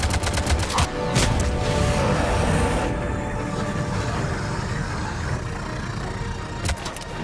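Sustained gunfire in a Mass Effect 3 battle from the Omega DLC, with dense shots at the start and another sharp burst near the end, all over a constant loud rumble of combat noise.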